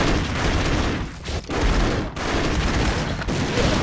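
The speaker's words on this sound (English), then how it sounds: "I like the machine gun the best." Dense, loud gunfire from the side-scrolling action video game Broforce, a continuous rattling barrage with brief dips, close and saturated with no talking.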